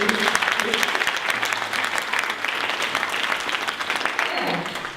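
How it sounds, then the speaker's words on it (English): Sustained applause from a crowd, steady clapping that fills the whole clip without a break, with a few voices faintly mixed in. "So let's give a big round of applause."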